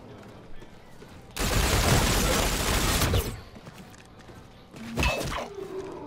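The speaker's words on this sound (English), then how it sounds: "Let me try my little pistol." Pistol fire in the video game Call of Duty: Infinite Warfare, a dense burst of loud shots lasting about two seconds, then a couple of sharper, isolated cracks later over background game noise.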